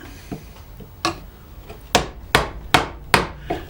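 A mallet strikes a chisel mortising wood, a few scattered taps then five sharp, evenly spaced knocks, close and crisp.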